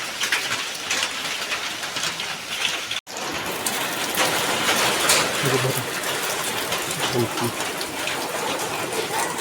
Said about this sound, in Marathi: आल्यावरच मोठा पाऊस आला